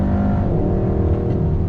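A 2021 Hyundai Sonata N Line sport sedan accelerating hard on track, engine droning loud and close with a steady rising roar and a brief break of a quick gear shift near the end.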